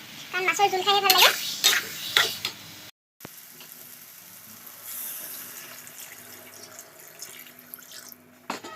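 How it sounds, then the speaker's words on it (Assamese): Water poured into a simmering Assamese bhakua fish curry with tomato and potato makes a steady, close rush that runs for several seconds, after a voice at the start. "মই ইয়াতে পানী দি দিম সৰহকৈ পানী দিম"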